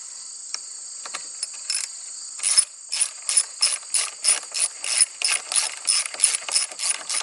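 A ratchet tightens the brake pad pin on the front caliper of a Honda CRF250L/CRF300L dual sport motorcycle, rapid close clicking that settles into a steady rhythm of about a dozen quick ratcheting strokes.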